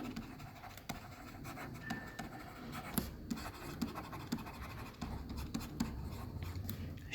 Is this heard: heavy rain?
no